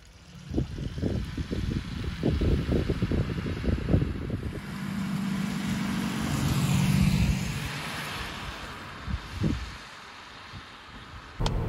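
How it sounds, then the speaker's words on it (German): Interior of a 2021 Skoda Octavia RS iV Combi plug-in hybrid driving on electric power at speed, a low, steady rolling drone and road noise, some irregular thumps early on, no voices. "Wir sind jetzt elektrisch unterwegs im Octavia RS IV."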